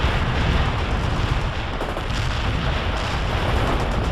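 Artillery from the real-time strategy game World in Conflict pounds a target area, a loud, continuous barrage of overlapping booms and deep rumble that runs unbroken throughout.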